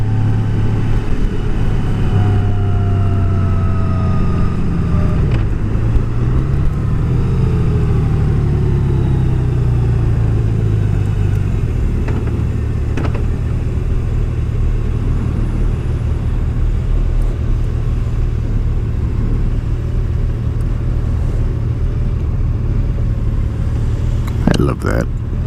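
A 2018 Honda Goldwing motorcycle rumbles along on a test ride, a rev dropping early on before the engine settles into a steady, loud drone with wind noise, a rider talking over it.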